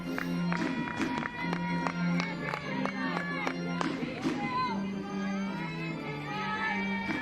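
Crowd at a 2021 college softball game between North Carolina and Clemson, a steady murmur of many voices with scattered cheers and claps, while a commentator talks over it throughout.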